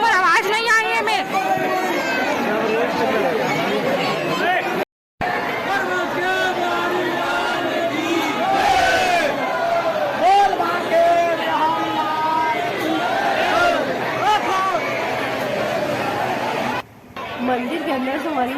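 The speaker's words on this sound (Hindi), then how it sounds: "बांके बिहारी से बहुत भीड़ है संगवारी हो, देखा बहुत ज़्यादा।" A packed crowd of devotees at Banke Bihari temple in Vrindavan fills the air with constant hubbub and overlapping chatter, close and loud throughout, with nearby voices talking.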